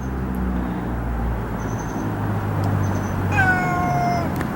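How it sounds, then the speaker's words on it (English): A cat meows close by, giving one clear drawn-out call near the end, over a steady low rumble of background noise. "this cat here was his best friend, and she's been looking for him and can't find him"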